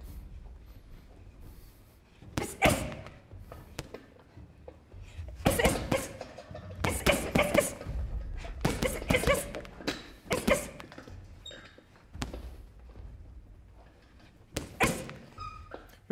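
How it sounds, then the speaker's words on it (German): Power body hooks from a boxer slamming into pads, a series of heavy thuds arriving in quick bursts of two to four with pauses between, close and loud, with some talking mixed in. "Mach erstmal so Power-Körperhaken"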